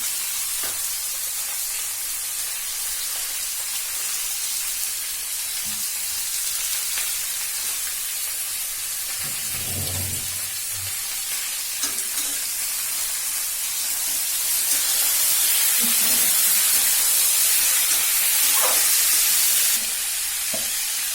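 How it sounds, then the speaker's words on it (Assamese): Ginger and garlic sizzle steadily as they fry in a pan for a jackfruit dish, a continuous close hiss with occasional stirring knocks and a brighter burst of spattering later on. "এতিয়া ইয়াত দিম মই আদা নহৰুখিনি দি দিছোঁ মই ইয়াত।"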